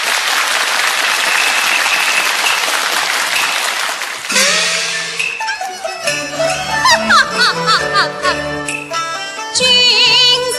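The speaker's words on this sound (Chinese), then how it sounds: "我们掌声鼓励。" Warm audience applause at a Yue opera concert, dense clapping for about four seconds before fading as instrumental opera music begins and carries on.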